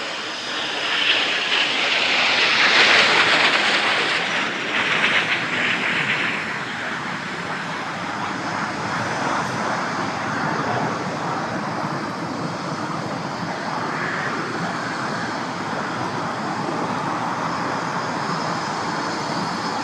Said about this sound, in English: It is the Eurofighter Typhoon